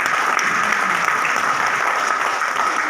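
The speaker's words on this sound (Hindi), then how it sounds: "पहले अपने लिए ताली बजाइए" An audience applauds, a dense and steady wash of many hands clapping that stays loud and even from start to finish, with no voices standing out.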